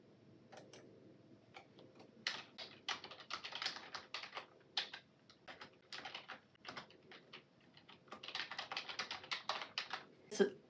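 Fingers tap on a computer keyboard in irregular bursts of quiet, close clicks, pausing briefly between runs of keystrokes.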